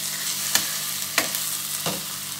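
Spices for a Bengali shol fish curry sizzling steadily in hot oil, with three scraping stirs of a spoon through the pan, close and continuous.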